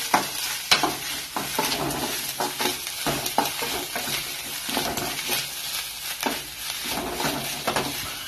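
Green chillies, curry leaves and mustard seeds sizzle and crackle in hot oil as they are stirred and fried until brown for a Kerala pumpkin erissery tempering, a close, continuous frying sound with scraping strokes of a spoon.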